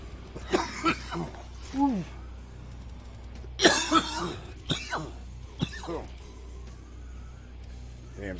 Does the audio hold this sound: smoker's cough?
yes